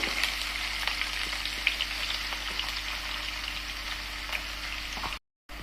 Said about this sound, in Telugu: ముందుగా ఆయిల్ వేసుకొని కొద్దిగా జీలకర్ర వేసుకోండి.